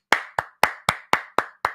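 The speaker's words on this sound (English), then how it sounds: "Hand clap." Seven crisp hand claps in a steady, even rhythm, close and fairly loud, each one snapping out and fading quickly before the next, with nothing else heard.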